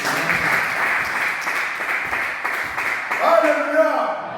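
A church congregation applauds during a worship service: steady, dense clapping fills the room and continues under a voice, then thins out toward the end.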